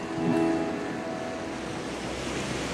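Sea waves wash onto a shore at Langkawi, a continuous soft surf roar with a slight swell at the start and steady wash throughout, no voices.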